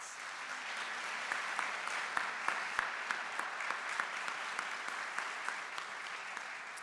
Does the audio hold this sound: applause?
yes